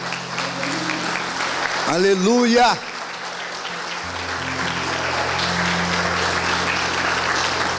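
A church congregation claps steadily, the applause filling the room, while a voice briefly calls out in Portuguese over it near the start.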